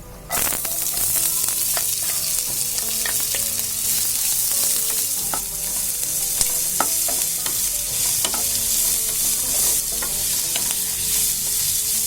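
Chopped large onions sautéed for mutton sukka, a loud continuous frying sizzle with repeated spatula clinks and scrapes against the pan throughout.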